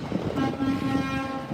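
On a frigid New York City street, a horn holds a steady, sustained tone through the whole moment, blending with the low rumble of traffic.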